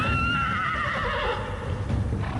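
A horse whinnies loudly and close, its neigh starting high and sliding downward, with low rustling and faint hoof movement underneath.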